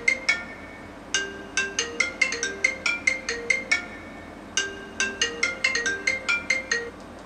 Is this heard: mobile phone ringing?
yes